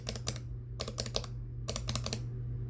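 Typing on a Prime keyboard fitted with stock T1 switches: bursts of several quick, crisp keystrokes in three clusters separated by short pauses, close and clear over a low hum.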